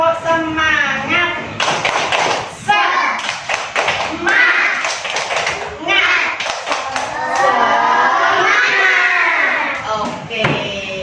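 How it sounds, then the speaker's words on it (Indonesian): Children in an Islamic religion class clap a rhythmic spirit clap together, loud bursts of patterned claps alternating with their chanting voices and a teacher's talk. "Coba tepuk semangat dulu."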